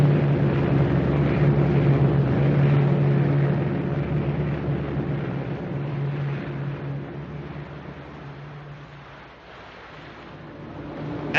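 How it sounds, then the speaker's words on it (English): Enemy warplanes approach in a 1944 war film, a steady droning engine hum that slowly fades somewhat and then swells again at the end, with no voices. "Enemy planes approaching."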